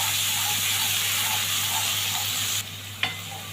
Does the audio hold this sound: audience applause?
no